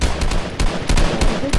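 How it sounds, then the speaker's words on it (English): Gunfire in the video game Fortnite: loud, close bursts of rapid shots in quick succession, filling the short stretch with no voices. "I start shooting at them"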